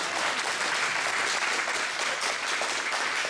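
Audience applause fills a theatre evening at a Dieppe amateur society show, a dense, steady wash of many hands clapping throughout with no talk on top.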